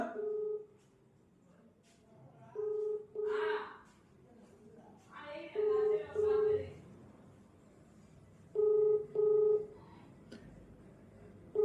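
A phone call rings out while waiting to be answered, with repeated paired tone bursts recurring every few seconds; between the rings a person breathes and makes short vocal sounds nearby.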